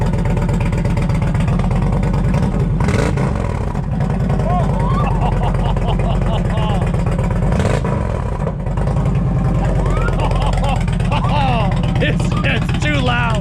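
Indian Challenger motorcycle with a TAB Performance 2-1 exhaust, loud deep engine rumble throughout with rising and falling revs, people talking over it.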